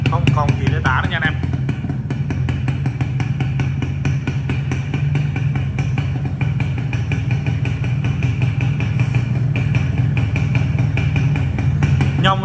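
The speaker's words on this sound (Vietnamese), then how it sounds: "Anh em nghe cái dàn hơi đủ hiểu rồi nha." A Yamaha 125ZR two-stroke motorcycle idles through its exhaust, a loud, close, steady rattling putter that runs without pause, with a voice briefly over it early on.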